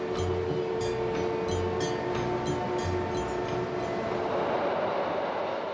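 A loaded freight train carrying pipes rolls steadily toward the Baltic island of Rügen, a loud continuous rumble with rhythmic wheel clatter and faint metallic squeal throughout.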